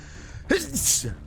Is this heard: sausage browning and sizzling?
no